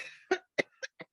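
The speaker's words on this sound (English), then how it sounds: "This is an old cough." A single speaker lets out four short, sharp coughs in quick succession, close and distinct, with brief silences between, during an academic lecture.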